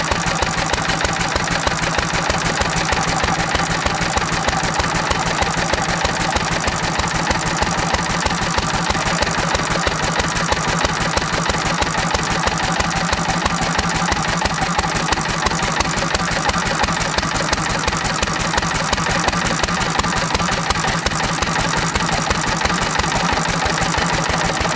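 A small engine idling while running on pure SeaFoam, a steady rapid chugging rhythm that stays loud and close for the whole stretch without talk.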